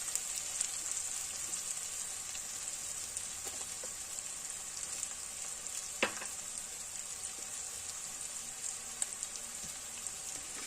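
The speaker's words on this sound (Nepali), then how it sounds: "आलु फ्राई हुँदै सबै प्याजहरू मसलाहरू फ्राई भइसक्यो।" Potatoes, onions and spices fry in a pan for aloo methi, giving a steady, faint sizzling hiss throughout with a few small pops and crackles and no talking.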